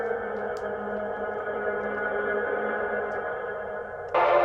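A sustained, washy guitar tone swells with a smeared, backward-sounding reverb texture, then a brighter burst of sound enters abruptly near the end.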